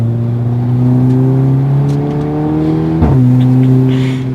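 An Audi S3 8V sedan accelerates hard, its engine note climbing loud and close, then dropping briefly at a gear change before rising again.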